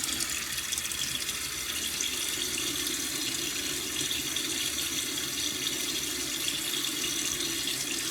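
Steady tap water runs into a sink throughout, a continuous close hiss and splash of faucet flow while a face is wetted before a bay rum shave.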